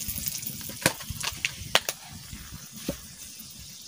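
Whole cardamom, cloves, cinnamon and bay leaf hit hot oil, giving a soft close sizzle broken by a scatter of sharp pops and crackles.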